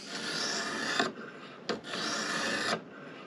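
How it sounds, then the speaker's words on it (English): A knife blade is drawn across a coarse sharpening stone in two long, close grinding strokes with a short pause between them. "you can start with a coarse edge or coarse stone"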